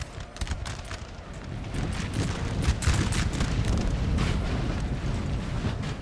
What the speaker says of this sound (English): Cannons are shot.